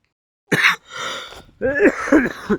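A rough, close cough from a chest cold, followed by throaty, strained sounds that run into a second coughing fit, in a village garden.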